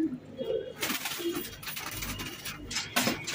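A pair of Chinese Owl pigeons coo softly nearby in short murmuring phrases, with scattered rustling and small clatter around them.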